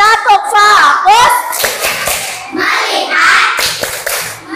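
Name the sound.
children doing a focus clap (tepuk fokus) in class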